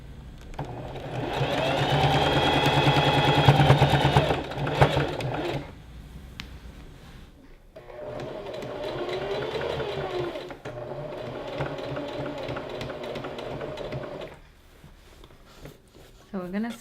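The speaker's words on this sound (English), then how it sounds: "we sew all the way from our arm all the way down to the end of our dress" Sewing machine stitching the side seam of a gathered maxi dress from armhole to hem, running in two sustained bursts of steady mechanical whirring with a pause between and faint background sounds.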